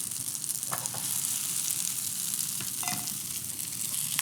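A Cuban sandwich, made without pork, sizzles steadily in a hot pan just after being flipped, a continuous close frying hiss with a few faint clinks and no talk.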